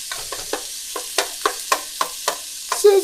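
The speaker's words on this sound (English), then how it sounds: "Got that sizzle. That means it's just right." Meat sizzles in a hot pan for sweet and hot noodles, a steady close crackle broken by regular scraping stirs about every quarter second.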